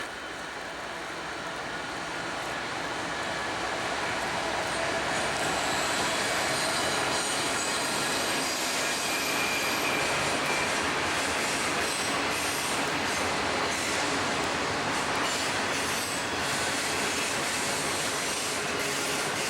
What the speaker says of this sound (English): you guys are going to get to hear a train go by